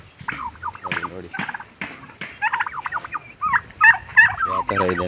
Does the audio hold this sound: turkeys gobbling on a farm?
yes